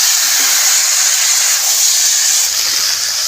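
Potatoes, sweet potatoes and carrots fry over a wood stove with a loud, steady, broadband sizzle that holds evenly throughout, close up and with no talking.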